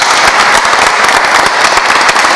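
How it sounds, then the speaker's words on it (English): Audience applause for Harrisburg High School students, a steady dense wash of many hands clapping at once, loud and sustained with no voices on top. "How about a round of applause for these youngsters at Harrisburg High School"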